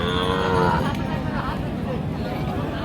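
Cattle mooing at a busy rural cattle market in Dinajpur, Bangladesh, with deep moos over a constant crowd murmur and people talking nearby.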